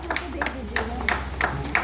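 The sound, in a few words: audience clapping loudly at a literary event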